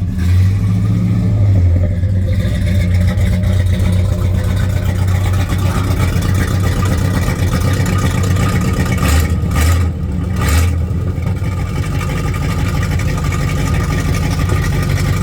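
A 1967 Dodge Coronet R/T 440 Six Pack V8 with its exhaust cutouts open runs with a loud, deep, lumpy rumble, holding a steady rough idle with a couple of brief blips near the end.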